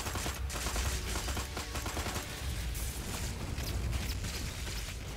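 Dense, continuous video-game gunfire from Destroy All Humans!, rapid overlapping shots and blasts filling the whole stretch at steady loudness with no voices on top.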